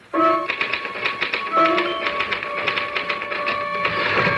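Rapid mechanical clacking of typewriter keys, irregular bursts of strikes with a couple of ringing tonal notes, close and loud with no voices.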